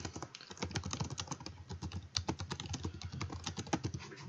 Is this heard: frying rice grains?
no